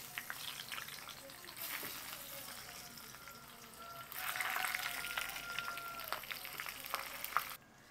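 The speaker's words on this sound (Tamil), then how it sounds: "உடண்டா போட்டு பொறிப்போம்." Eggplant slices fry in hot oil with a continuous crackling sizzle that swells louder partway through, punctuated by occasional stirring clicks and faint background voices.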